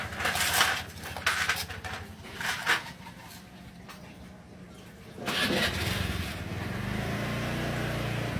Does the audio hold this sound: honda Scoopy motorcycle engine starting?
yes